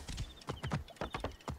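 A horse gallops in the video game Assassin's Creed Origins, fast rhythmic hoofbeats thudding close and loud in quick clusters, with a faint whinny-like tone above.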